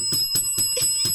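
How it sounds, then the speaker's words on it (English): A shop customer bell rings in quick repeated metallic dings, about five strikes in steady rhythm with a ringing high overtone, moderately loud with no talk over it. "because you got the customer bell on"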